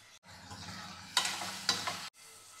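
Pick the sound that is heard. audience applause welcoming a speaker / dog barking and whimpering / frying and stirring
frying and stirring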